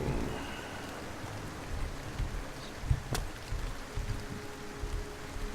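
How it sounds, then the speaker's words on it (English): Rain falls in the Great Forest lowlands in a Morrowind-Oblivion game world as a steady, moderate hiss with scattered drip patter and one brief sharp tick, no voices. "It is still raining."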